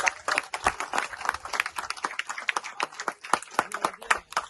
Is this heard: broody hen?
no